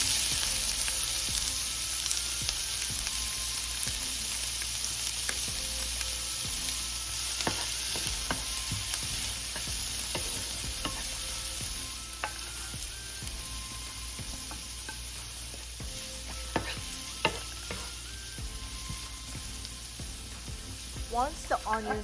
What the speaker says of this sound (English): We will now prepare the sauce by sauteing onions and garlic into the olive oil and let the onions cook until translucent.